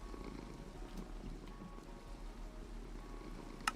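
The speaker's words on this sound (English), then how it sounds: "Cat!" Cat purring in the video game Ark, a faint, steady low rumble running throughout with a small click near the end and no voices.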